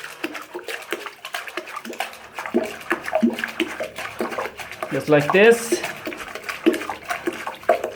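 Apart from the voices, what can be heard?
water being pumped out of a toilet bowl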